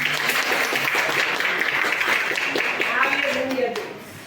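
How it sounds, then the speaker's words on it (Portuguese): A church congregation claps in sustained applause to welcome a woman preacher at a communion service, dense and steady throughout before tapering off near the end, with voices mixed in. "As palmas, recebe a nossa irmã."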